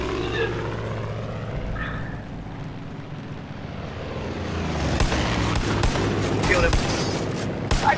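A plane's engine drones steadily through a Far Cry 5 fight, with bursts of gunfire and impacts building in the second half under a busy, loud mix.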